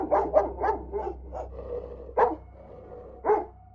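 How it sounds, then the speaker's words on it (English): A dog barks a quick run of four or five barks, then two more spaced single barks, fairly close and clear over a low steady hum, with no talk. "we heard the dog barking"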